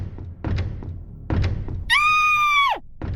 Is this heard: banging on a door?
yes